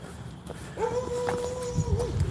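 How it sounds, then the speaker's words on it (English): A big dog close by lets out a single drawn-out whining, howl-like cry lasting about a second, over faint background noise. "that sounds like a big dog"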